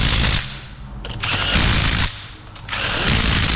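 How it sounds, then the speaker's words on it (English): Torque-limited tool tightening two nuts, giving bursts of rapid, high-pitched mechanical clicking that stop and restart several times, loud and close with no voices. "Torque limited. High frequency impacting clicks."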